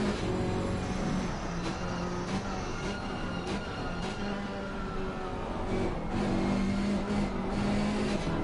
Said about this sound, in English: let's listen to that KTM as he brakes hard into turn 3 and 4.